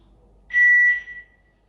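A single clear electronic beep from a rok alarm system pairing a PIR sensor, steady and close, lasting under a second in an otherwise quiet room.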